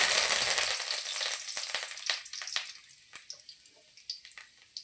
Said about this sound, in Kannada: ಇದನ್ನು ಸಣ್ಣ ಉರಿದ ಮೇಲೆ ಇಟ್ಕೊಂಡು ಸ್ವಲ್ಪ ಫ್ರೈ ಮಾಡ್ಕೊಬೇಕು.